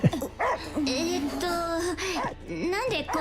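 A dog in the Neverness to Everness video game lets out a string of high whining yelps and short yips, close and fairly loud, with brief pauses between the cries.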